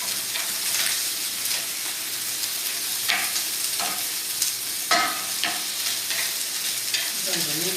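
Ground meat sizzles and crackles steadily as it browns in a pan, with scraping and stirring knocks from a utensil breaking it up throughout.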